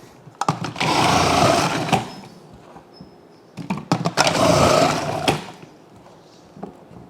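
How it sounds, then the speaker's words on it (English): A food processor shreds onions for zucchini relish, its motor roaring in two loud bursts of about one and a half seconds each, with quieter clatter between them. "I got to do these onions too, so I'm going to shred these onions up."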